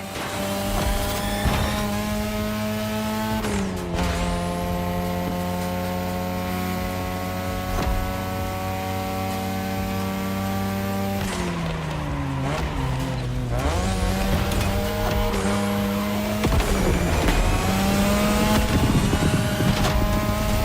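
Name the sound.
2002 Mazda RX-7 rotary engine racing, The Crew Motorfest video game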